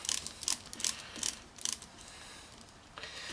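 A ratchet turning bolts on a GT1752V turbocharger during a rebuild, making quick bursts of sharp clicking in about six rhythmic strokes, close and clear, then a pause before a final short burst.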